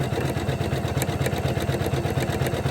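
A Janome 500e embroidery machine sewing a satin stitch, a steady rapid mechanical hum with fast even needle pulses, close and continuous, alone without talk.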